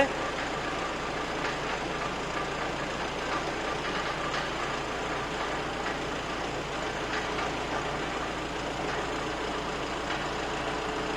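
A forklift creeps slowly forward in first gear during a driver training session in Kolkata. Its engine holds a steady, continuous drone with broadband mechanical noise, close and fairly loud, with no clear breaks throughout.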